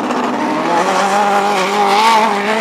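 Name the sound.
race cars racing on an oval track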